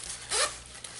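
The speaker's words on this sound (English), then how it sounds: "Big zipper." A big zipper on a peacock-pattern fabric pouch is pulled open in one quick, close rasping stroke.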